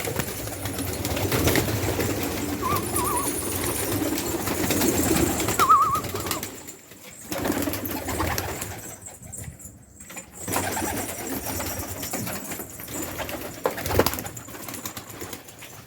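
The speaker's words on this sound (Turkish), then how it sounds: "Şimdi kuşlarımızı bırakalım arkadaşlar." Domestic pigeons let loose from a coop, with a steady wash of wing flapping and soft cooing close by, the fluttering dropping away briefly in gaps before picking up again.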